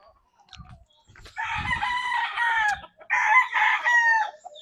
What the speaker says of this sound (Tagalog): So daghang kayong mga manok diri no.